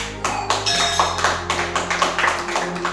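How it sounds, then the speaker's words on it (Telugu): A church congregation claps in a quick, steady rhythm of sharp slaps over a sustained low musical tone. "చప్పట్లు కొట్టు."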